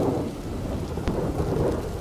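Heavy rain pours steadily with a deep rolling thunder rumble underneath and a sharp crackle partway through, loud and close.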